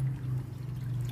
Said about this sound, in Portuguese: Então é bastante barulhento quando a queda da água fica